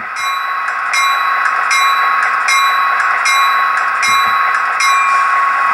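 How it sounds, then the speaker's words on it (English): An HO scale model locomotive bell, from an SD40-2 sound decoder, rings in a steady, regular rhythm, clanging about every three-quarters of a second over a constant mechanical hum. "I really like the bell on this locomotive."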